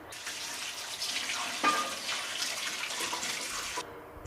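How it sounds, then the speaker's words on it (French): Water is poured into a pot over glass jars of home-canned peas, making a steady, moderately close splashing and trickling rush that runs for about four seconds and then cuts off. "on va tout simplement recouvrir d'eau"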